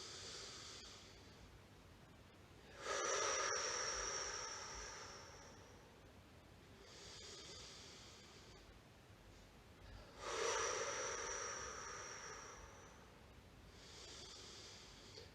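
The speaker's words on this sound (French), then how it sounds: "J'inspire." Slow deep breaths during a morning breathing exercise: two long, airy, close inhalations swell and fade about seven seconds apart, with softer exhalations between them and no other sound.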